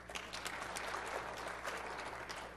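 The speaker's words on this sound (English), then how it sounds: "Now, how about an applause for that?" A conference audience at a SharePoint event gives a short burst of applause, an even patter of clapping that sounds fairly faint and distant, with no talk over it.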